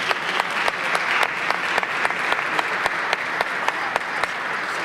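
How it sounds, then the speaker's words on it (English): Audience applause at a city council meeting in Cleveland: a steady, close wash of many hands clapping, with a few sharper individual claps standing out, no talking over it. "Let's give them a great big round of applause."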